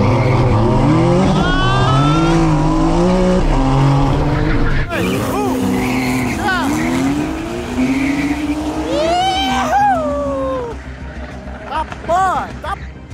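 A racing car in a video game race with nitro boost, engine revving and shifting up through gears with tyre squeals, under excited talking throughout.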